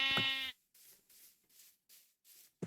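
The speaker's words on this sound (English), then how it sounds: "There's a lot of sheep here too" A Minecraft sheep gives one clear, close bleat, with another starting at the end and faint shuffling in between.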